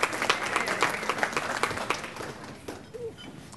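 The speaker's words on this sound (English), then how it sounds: "So fourth year dental students, round of applause to University of Illinois Dental." An audience at a dental lecture gives fourth-year dental students a round of applause: dense, crisp clapping from many hands, fairly close and strong at first, then thinning and tapering off toward quiet, with a brief voice near the end.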